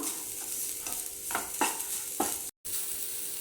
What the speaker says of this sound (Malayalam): നന്നായിട്ടൊന്ന് ഇളക്കി യോജിപ്പിച്ചെടുക്കാം